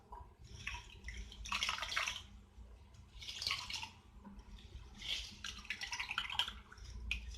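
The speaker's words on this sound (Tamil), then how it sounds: "இப்போ இந்த பிரெட்டை வந்துட்டு நம்ம இந்த தண்ணியில நனைச்சு நல்லா ஸ்குவீஸ் அவுட் பண்ணிடலாம்." Bread slices are dipped in a bowl of water and squeezed out by hand, making soft, quiet splashes and trickling drips in a few separate bursts, close up, with no talking.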